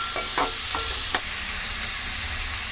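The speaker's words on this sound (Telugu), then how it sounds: "మంచిగా బ్రౌన్ కలర్ వచ్చిందాక వేపాలి, ఫ్రై చేయాలి మంచిగా." Chopped onion and turmeric frying in a pan until brown for fish curry: a loud, steady close sizzle with several quick scraping stirs near the start, then continuous hissing.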